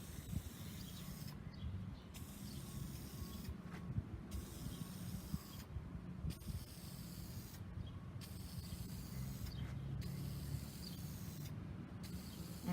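An aerosol can sprays acrylic clear coat onto an acrylic painting in a series of short, even hissing bursts, about six of them, each separated by a brief pause, close and fairly quiet.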